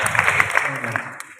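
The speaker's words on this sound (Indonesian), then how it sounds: "Tepuk tangan untuk temannya." A classroom of high school students applauds a classmate during a Ramadan pesantren session at SMAN 1 Pontianak, brief scattered clapping mixed with voices for about a second.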